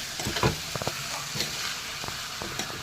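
Banana flower thoran stirred in a pan, a close, continuous sizzle broken by a few quick spatula scrapes and taps, with no talking.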